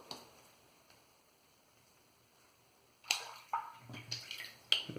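A shaving brush or razor rinsed in water at a sink: near-silence for three seconds, then a close run of splashes, drips and sloshing bursts.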